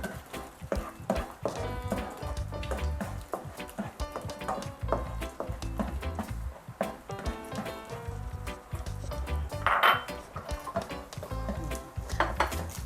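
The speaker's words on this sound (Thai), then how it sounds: "น้ำมันร้อนแล้วนะคะ เราก็จะนำไข่ลงไปเจียวก่อน" Oil sizzles steadily in a pan as duck eggs fry in hot oil, while utensils clink and scrape against it over and over, with no talking.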